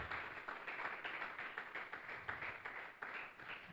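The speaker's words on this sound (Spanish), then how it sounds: "démosle una ofrenda de aplauso al Rey de Reyes y al Señor de" Steady applause from a church congregation offered during a service, a faint, continuous patter of many hands clapping in a hall.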